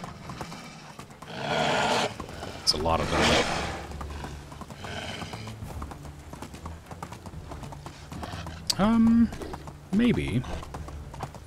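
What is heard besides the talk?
donkey hooves running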